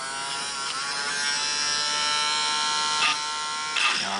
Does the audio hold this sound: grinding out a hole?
yes